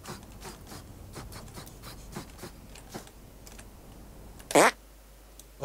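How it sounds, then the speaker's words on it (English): A cartoonish fart in the video game South Park: The Stick of Truth, one short, loud, squelchy burst near the end, preceded by faint clicking game sounds. "Make your fart detonate behind me."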